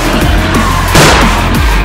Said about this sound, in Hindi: मैं सिर्फ रेस दे रहा हूँ और रेस के साथ मोड़ रहा हूँ, ड्रिफ्ट लग रही है।